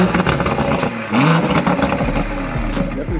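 A BMW engine with a downpipe revs up close with a raspy, loud exhaust note, surging briefly and dropping back over a few seconds.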